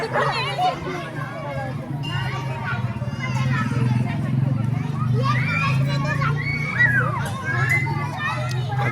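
A packed queue of devotees, mostly women, waits at Shri Ram temple, Ayodhya Nagar, on Makar Sankranti, filling the air with continuous babble and children's voices over a low, steady hum.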